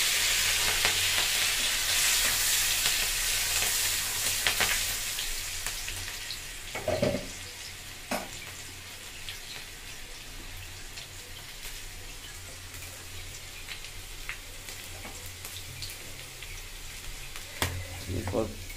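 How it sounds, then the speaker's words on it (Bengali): Black cumin seeds tempering in hot oil for a tangra catfish curry give a loud, steady hiss that is strongest at the start and then settles into a continuous sizzle, broken by a few sharp pops and stirring clatters. "কালো জিরে ফোড়ন দেওয়া হলো"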